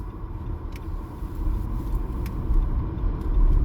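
A car drives along a cleared road toward a nursing home after snowfall, a steady low rumble of engine and tyres from inside the cabin, slowly swelling, with no talk.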